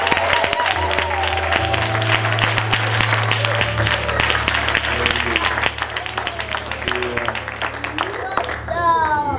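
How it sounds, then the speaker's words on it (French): Wedding guests at a French-speaking church ceremony applaud the couple in steady, dense clapping throughout, with crowd noise, a voice and music underneath. "Est-ce qu'on peut les applaudir?"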